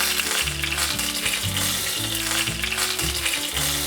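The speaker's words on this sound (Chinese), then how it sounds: "慢慢炸出焦黄色了，要适时的翻面，四面都要煎成焦黄色" Vegetarian chicken rolls deep-fry in hot oil until golden, a steady, close sizzle and bubbling that carries on without pause.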